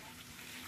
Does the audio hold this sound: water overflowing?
yes